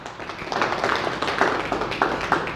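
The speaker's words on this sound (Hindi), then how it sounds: "एक बार तालियां जोर" Audience at a Rajasthan Jangam Samaj core committee meeting in Bharatpur claps together, a dense, steady patter of many hands filling the room at moderate loudness, without talk.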